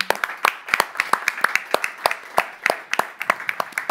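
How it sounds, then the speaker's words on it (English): Sparse applause from a small audience at a conference session on a just transition for the gas sector, with several people clapping at an irregular, scattered rhythm, moderately near and without speech. "Let's give them a round of applause."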